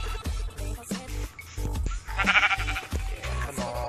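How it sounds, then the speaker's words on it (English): Sheep in Minecraft bleat several times in quick succession, close and clear over faint background game sounds. "This one that I just went into after that sheep"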